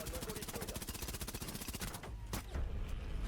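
Rapid automatic fire from the FMG in a video game, a dense burst of evenly spaced shots lasting about two seconds, then stopping, followed by a few scattered clicks and low rumble.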